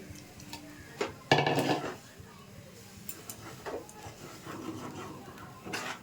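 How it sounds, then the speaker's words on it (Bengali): A spoon scrapes and knocks against a wok while rice flour is stirred into salted boiling water, a few sharp clatters and rubbing scrapes amid a quiet background, with a voice speaking in between. "এটাকে ভালো করে মিশিয়ে নিচ্ছি"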